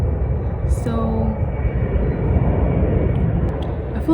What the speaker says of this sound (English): I feel like the plane was too loud.